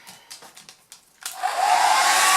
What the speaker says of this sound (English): Then you're going to get your hairdryer.